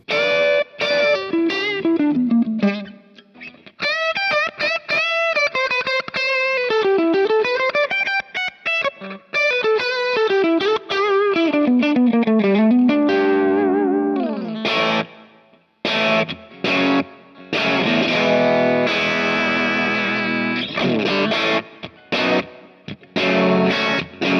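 An electric guitar plays through a Kemper profile of a Dr Z amp, loud and distorted with a chorus-like shimmer. Singing bends and melodic runs give way to hard, chopped chord stabs with brief gaps, and nobody talks.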